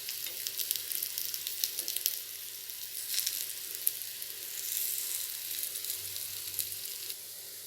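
Onion evening snack frying in oil in a paniyaram pan, a soft continuous sizzle with faint crackles, heard close and alone without talk.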